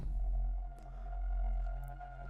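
A buzzy synth tone in Vital holds steady, a triangle wave thickened by a gritty FM sample layer that adds a faint metallic edge; sustained and fairly quiet.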